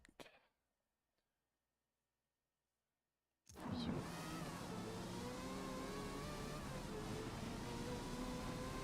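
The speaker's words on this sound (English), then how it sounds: "Man, the car sounds different." After a few seconds of near silence, a Forza Motorsport 8 race car's engine kicks in at Mugello and drones steadily, loud and continuous with shifting pitch as it runs around the circuit.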